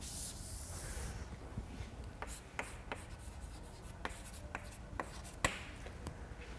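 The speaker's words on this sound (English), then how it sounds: "So let me write down." Someone writes on a board during a statistics lecture: quiet scratchy strokes and short taps spaced irregularly over a faint room hiss, with no voices.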